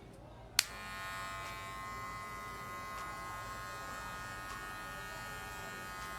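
An electric hair clipper fitted with a half guard buzzes steadily and fairly quietly during a men's military-style haircut, switched on with a sharp click and then humming evenly throughout.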